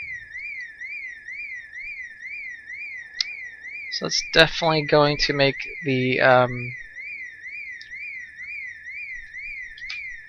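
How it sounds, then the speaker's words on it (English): A car alarm in the zombie survival game Project Zomboid wails with a steady rising-and-falling electronic tone throughout, while someone talks over the middle section. "There's the alarm."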